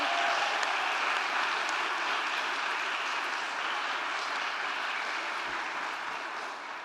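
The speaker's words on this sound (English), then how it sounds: "Can we have another round of applause for everyone who's presented today?" A school audience gives another round of applause for sixth-grade students after their speeches, a broad, even wash of many hands clapping that stays steady and then slowly fades near the end.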